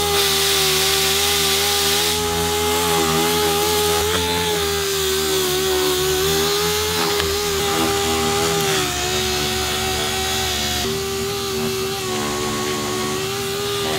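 A power sander works on a car interior panel with a steady, loud, high motor whine and a rough grinding hiss, close up and continuous, with no voices.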